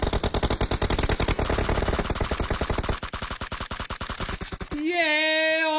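Rapid automatic gunfire in the PUBG battle royale game, long dense bursts of loud close shots that thin into spaced single reports before a rising electronic tone.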